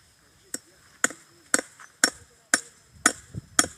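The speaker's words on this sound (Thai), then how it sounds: "ตอกตะปูไว้เลย" Hammer blows drive nails while a gate is built, seven sharp, evenly spaced strikes about half a second apart, close and loud with no talk.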